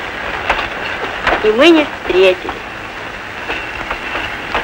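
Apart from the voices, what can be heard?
train clickety-clack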